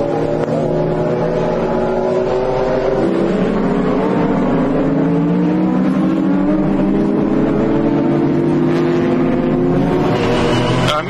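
A Ferrari 575 Maranello GT race car engine runs loud and steady at the 2004 FIA GT round in Dubai, its pitch rising and falling through gear changes for the whole stretch, with no talk over it.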